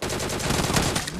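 Rapid gunfire in Battlegrounds Mobile India, a fast burst of automatic shots in quick rhythmic succession, loud and close, lasting the whole moment.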